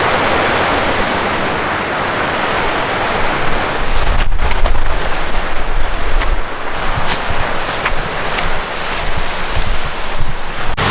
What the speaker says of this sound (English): I feel like with the waves crashing, it should definitely be an ocean.